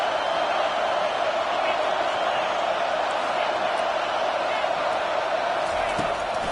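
A home crowd at an NCAA college football game roars steadily on a third down, a dense, unbroken wall of stadium noise that holds at the same level throughout.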